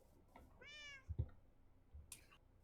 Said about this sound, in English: ah, cat.